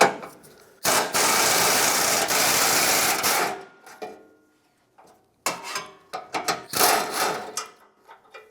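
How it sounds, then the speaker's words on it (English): A ratchet with a 12mm socket works a bolt joining the center and corner pieces of the rear bumper on a 1996-2002 Toyota 4Runner, passenger side. Two runs of rapid, close, rasping clicks are split by a brief pause. "Now let's remove the bolt that holds the center piece to the corner piece on the passenger side."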